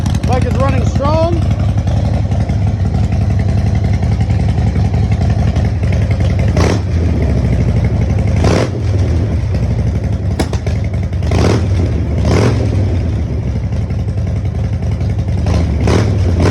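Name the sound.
2017 Harley Davidson Low Rider S cold start, Vance and Hines exhaust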